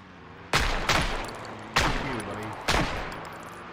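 Four loud, close gunshots from Project Zomboid ring out at uneven intervals, each with a sharp crack and a decaying echoing tail, over a low background hum.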